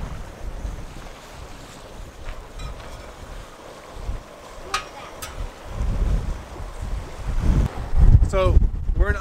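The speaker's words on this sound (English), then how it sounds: "The wind is so strong" Strong wind gusts roar across a lakeside campsite, a steady rushing buffet that swells louder toward the end, with brief voices near the close.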